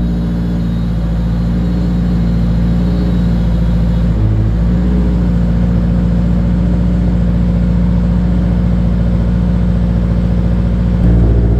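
A Subaru STi that barely runs in the East Coast climate, running after a slow start: a loud, close, steady idle with a deep, uneven throb and slight rises in engine note partway through and near the end.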